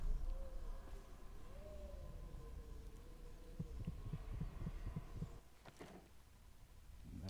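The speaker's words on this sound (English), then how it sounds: "That heart is going nuts there." A disembodied heart throbs in the stealth video game Dishonored, its rapid rhythmic pulses thumping over a steady low hum, louder bursts clustering midway before fading.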